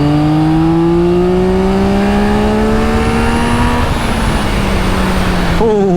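A 2024 Yamaha XSR900 motorcycle accelerates flat out in third gear on an open straight road. The engine is loud and close, its tone rising steadily under heavy wind rush, with a shift or throttle change near the end.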